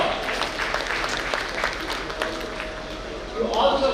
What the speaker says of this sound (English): Give yourself a bigger round of applause.